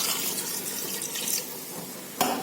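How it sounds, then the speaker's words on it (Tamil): Water poured from a vessel into a pot of chicken gravy in a home kitchen, a short steady splashing trickle ending with a brief clink. "தண்ணி ஊற்றலாம்."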